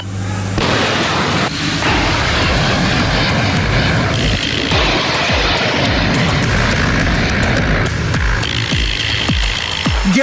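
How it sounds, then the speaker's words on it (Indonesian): Super Hornet fighter jets launch from the US aircraft carrier Abraham Lincoln, a loud, continuous roar of jet engines with rumbling low-end bursts that holds steady throughout, with no talk. "Jet tempur Super Hornets lepas landas dari kapal induk Amerika Serikat Abraham Lincoln"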